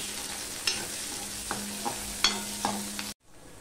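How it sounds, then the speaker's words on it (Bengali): Crushed whole garlic cloves fry in a pan, giving a steady close sizzle broken by a few sharp spatula taps and scrapes, then cut off abruptly into near silence. "রসুনটা প্রায় লাল লাল হয়ে ভাজা হয়ে গেছে"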